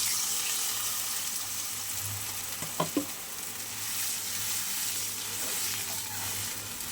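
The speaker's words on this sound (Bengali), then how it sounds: "এবার আমি পরিমাণ মতো জল দিয়ে দেবো" Water poured into a hot pan of fried ingredients for a tilapia curry with taro stems, giving a steady, close hiss and sizzle with a couple of brief splashy bursts midway.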